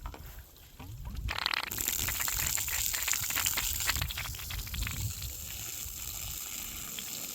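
After a brief hiss, dirty water bursts out and gushes steadily from an opened sprinkler line valve, loud and rushing, easing slightly toward the end.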